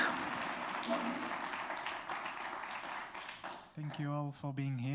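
Audience applauding a speaker, Michael Schlesinger, at the end of a talk: a soft wash of many hands clapping together, then it fades as a voice begins speaking.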